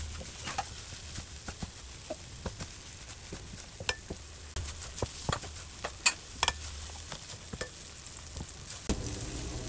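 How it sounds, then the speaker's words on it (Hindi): Semolina halwa is stirred with a spoon in a kadhai. Frequent sharp clicks and knocks of the spoon against the pan ring out over a soft frying hiss, irregular and close, with no voices. "अब हमने इसको चम्मच की मदद से हमने हिलाते जाना है और तब तक हिलाना है जब तक कि ये कढ़ाई को छोड़ ना दे"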